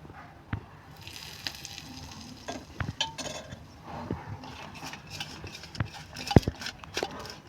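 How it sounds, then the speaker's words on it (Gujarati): Spice masala is mixed with hot oil as stuffing for Kathiyawadi stuffed brinjal, with irregular close scraping, tapping and clinking spoon strokes over a soft background. "બરાબર આ રીતે મિક્સ કરી દઈશું મસાલાને"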